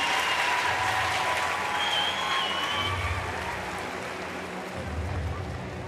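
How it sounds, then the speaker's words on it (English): Crowd at a Paralympic powerlifting competition cheering and applauding after a lift, a loud, dense roar of clapping and shouts that fades slightly, with a commentator's voice running over it. "Huge noise from the crowd."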